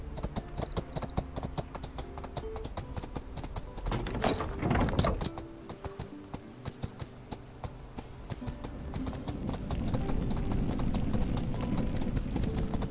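Rhythmic hoofbeats clip-clop steadily while riding a horse in the video game My Time at Sandrock, with a brief louder rustle midway and a low rumbling ambience building under the hooves later.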